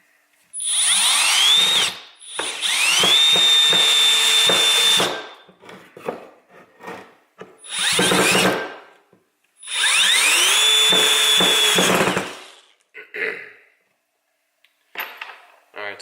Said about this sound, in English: we're going to try and see if we can drill this 3-inch screw into this